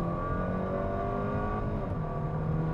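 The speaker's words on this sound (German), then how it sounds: "Ich bin im Automodus und gebe jetzt einfach mal Kickdown." A 2020 Audi A5 g-tron running on CNG, 170 PS and 270 Nm, accelerates hard on kickdown from around 50 km/h, its engine drone rising steadily and continuously inside the cabin with no talk.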